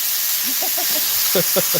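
Food sizzles in a pan during dinner cooking. A loud, constant hiss fills the whole clip, with a few short low pops and bubbling bursts under it.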